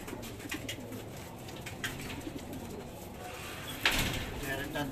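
Pigeons coo softly in a loft, with low, rolling calls repeating against quiet background noise. A louder rustle or thump comes near the end.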